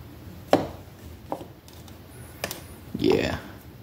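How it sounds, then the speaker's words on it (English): Scoops dug from a big tub of Tillamook ice cream with a scoop. There are several scraping, dull scraping strokes, one sharp tap near the start and a longer scrape toward the end, all close up with background hiss. "it's a big tub, so I'm gonna put a lot of scoops in here."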